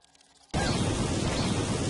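Loud, sustained explosion blast erupting suddenly after a quiet half-second in the video game Dust: An Elysian Tail, a dense roaring burst of noise that holds steady to the end.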